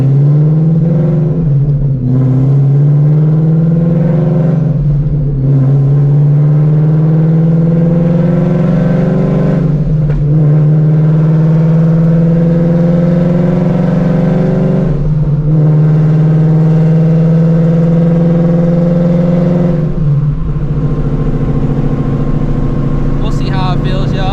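A 900-horsepower Shelby GT350 with a new clutch is driven through hard full-throttle pulls, the loud engine note climbing steadily through each gear before dropping at the shifts, about four shifts in a sustained, close run of acceleration.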